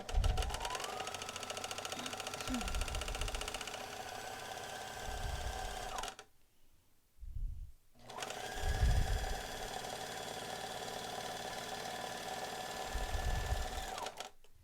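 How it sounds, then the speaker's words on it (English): A serger runs in a steady, fast mechanical whir while serging down a fabric edge for a reversible mask's ties, stopping briefly partway through before starting up again, close and continuous. "we're just going to serge all the way down"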